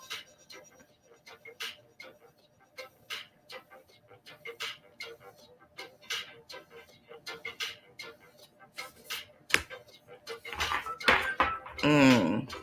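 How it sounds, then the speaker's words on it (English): Cards are shuffled clumsily by hand in a series of soft, irregular riffles and slaps, with a brief flurry of louder clattering near the end; a person speaks briefly in between. "Clumsy shuffling, sorry."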